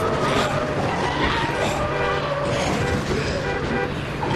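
A car horn honks amid dense game noise in the video game Dead Rising, a blaring tone buried under continuous engine and traffic sound with talk over the top.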